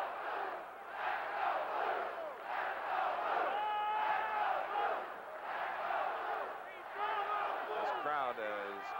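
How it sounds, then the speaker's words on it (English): A large football stadium crowd in Columbus, Ohio, at a 1972 Michigan vs. Ohio State game, chants and roars in a steady, rhythmic wall of voices, with a rising whistle-like cry near the end. "This crowd is chatting and chanting all the time here in Columbus, Ohio."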